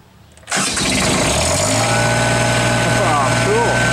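A diesel engine on an HTP welder cranks and catches about half a second in after the glow plugs are heated, then settles straight into a loud, steady running drone that stays close and continuous to the end.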